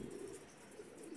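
Pigeons coo softly in a short, faint burst of low, rounded calls with no voices.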